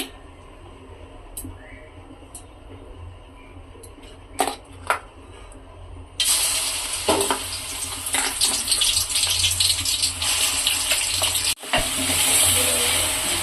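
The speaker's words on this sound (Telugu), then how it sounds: "దీన్ని అయితే బాగా ఫ్రై చేసుకుందామండి, పచ్చివాసన పోయేంత వరకుని" Onion paste drops into hot oil in a pan for a Telugu fish curry and bursts into loud, close, crackling frying after a few quiet clinks and taps. The sizzle holds steady with one brief break near the end.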